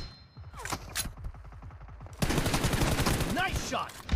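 Gunfire in the mobile battle royale game PUBG Mobile: a rapid string of sharp shots in quick succession, then a louder dense burst of firing with heavy clatter continuing to the end, with a brief voice in between.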